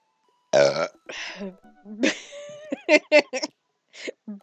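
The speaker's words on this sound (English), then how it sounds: "Burp." A burp in a dating game, a few short voiced bursts with gaps between them, close and fairly loud, with no talk over it.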